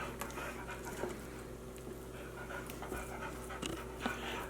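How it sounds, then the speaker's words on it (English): A dog pants quickly and rhythmically close by, with soft breathy huffs repeating steadily in a quiet kitchen. "My dog is here waiting for a sample"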